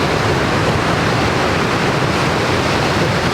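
Steady, dense roar of rushing water, loud and unbroken throughout, like a powerful waterfall close by, in Iceland.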